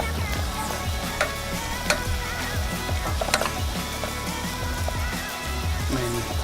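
Flour being stirred into a sizzling pan for a Tex-Mex loco moco gravy, with steady frying hiss broken by scraping utensil strokes and occasional knocks against the pan, close and without talk.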